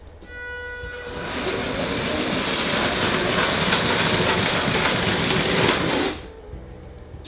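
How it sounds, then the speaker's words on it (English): Lego train rolling into an automated container terminal, a steady rumbling run that builds over several seconds and then cuts off abruptly, with a faint tone at the start. "The train has arrived"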